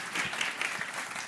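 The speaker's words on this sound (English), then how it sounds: "Please, a clap for Doris." Brief burst of audience applause at a climate finance conference in London: a roomful of hands clapping steadily at moderate volume, no voices over it.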